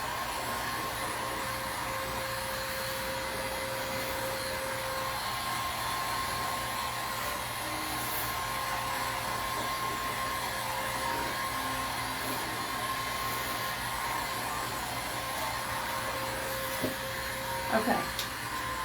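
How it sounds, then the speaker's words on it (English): A heat gun blows hot air to dry paint on a farmhouse kitchen craft piece, a steady close whooshing roar with a faint tonal whine that runs unbroken, ending with a few small clicks. "My husband gave me his heat gun, so I'm learning the low and the high."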